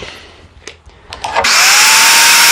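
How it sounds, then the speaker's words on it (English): Power saw cutting a wooden board marked at 43¼ inches, a few handling clicks and a rising motor whine before the blade bites and settles into a loud, steady high-pitched roar, very close. "I'm going to cut a board 43¼ inches."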